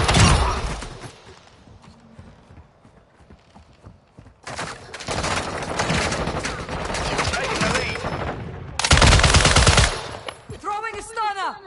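Bursts of rapid automatic gunfire in a shooter video game, loud and close, arriving in two long stretches separated by a quieter gap, with voices talking over parts of it.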